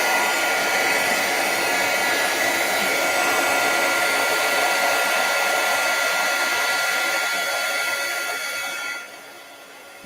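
A heat embossing tool blows hot air onto stamped cardstock, a loud steady whirring roar that runs close and unbroken before cutting off near the end.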